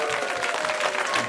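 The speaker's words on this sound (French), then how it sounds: "Et on applaudit bien fort, monsieur." Audience applause at a comedy film festival event in Alpe d'Huez, a dense steady wash of clapping filling the whole short moment without letup.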